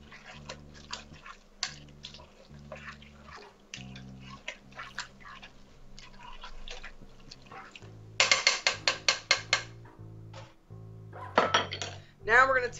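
Chicken pieces stirred in a pan, with metal utensil clinks and scrapes against the pan, soft at first and then a burst of sharper clatter, up close with faint talk.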